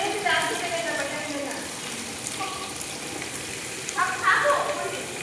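Onions sizzling as they are added to hot oil in a pan with capsicum and curry leaves nearby, a steady close frying hiss with brief stirring scrapes, under occasional talking.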